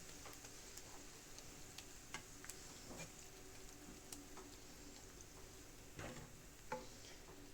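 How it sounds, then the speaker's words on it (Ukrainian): Soft, steady sizzling of flour frying in a pan, with faint scattered ticks and scrapes; no talking. "ставимо ще прожарюватися, щоб прожарилася нам мука"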